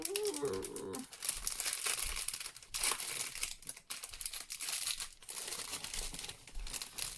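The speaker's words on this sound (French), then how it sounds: "J'aurais dû vérifier avant s'il y avait des packaging à ouvrir" Crinkly plastic packaging around makeup brushes being torn and opened, with dense close crackling and rustling in bursts and brief pauses.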